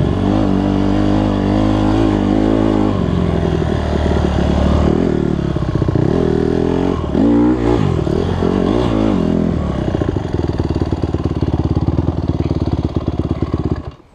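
A dirt bike in first gear pulls away as the clutch is let out, its engine revving loud and close with a steady throbbing drone that rises and clatters before cutting off at the end.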